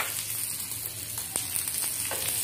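Foron spice mix frying in hot oil in a pan for egg curry, giving a continuous close sizzle with a few sharp crackles and pops.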